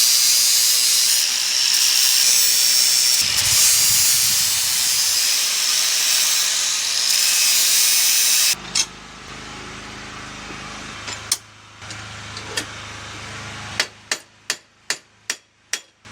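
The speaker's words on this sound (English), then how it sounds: "clamp it, tack it, weld it." Arc welding a new coupler onto a Big Tex utility trailer: about eight seconds of loud steady crackling hiss, then quieter shop noise ending in a rapid series of sharp metallic taps.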